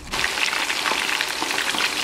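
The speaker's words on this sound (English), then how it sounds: "As our meat is frying" Goat meat fries in a pan for jollof rice, a steady close crackling sizzle with scattered pops and no voices.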